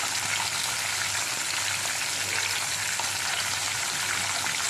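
Punti fish fry in a pan with a dense, even sizzle that holds steady and fairly loud throughout, with no talk over it.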